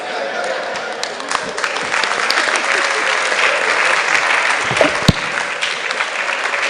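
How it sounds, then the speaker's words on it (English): Sustained audience applause at a management lecture, a dense steady wash of many hands clapping that carries on for several seconds, with a few sharper claps standing out near the end. "I think we can do better with that applause"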